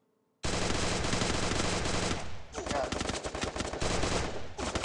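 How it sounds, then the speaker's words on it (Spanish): Sustained automatic gunfire from the battle royale game Free Fire, a loud dense burst of rapid shots that starts abruptly, briefly thins, then resumes as choppier bursts. "¡Mata! ¡Sigue disparando!"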